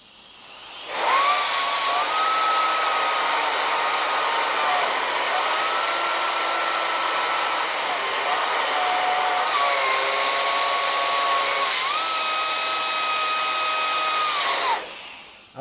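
A portable rechargeable electric air blower for electronics and home use runs at its maximum setting, its steady high-pitched whine and rushing air starting abruptly, holding loud and close with slight pitch shifts, then cutting off.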